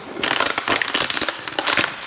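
A plastic PET bottle is squashed by hand for recycling, giving a loud, dense run of crackling crunches and pops that continues for about two seconds, close to the microphone.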